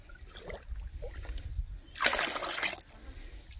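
Water poured into a jar to top it off, a soft trickle and splash rising to a brighter gush for about a second before easing back, faint and close.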